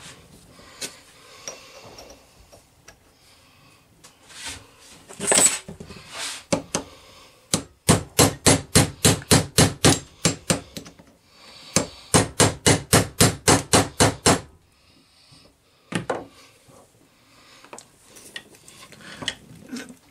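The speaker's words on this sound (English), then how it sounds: "we're going to have to tap that on with the hammer." Two bursts of rapid, sharp hammer taps on metal, fitting a part onto a lightsaber hilt, each a steady run of about a dozen strikes, with scattered clanks and handling noise around them.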